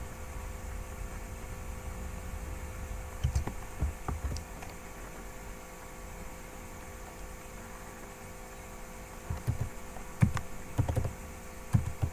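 Computer keyboard typing while entering SAP purchasing and invoice data, soft irregular clicks over steady background hum, with a few louder clustered keystrokes near the end.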